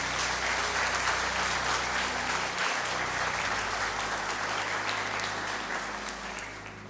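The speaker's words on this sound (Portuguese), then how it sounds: "Você pode aplaudir ao Senhor nesse momento?" Church congregation applauding together during a worship service, a dense steady wash of clapping that holds loud throughout and tapers slightly at the end.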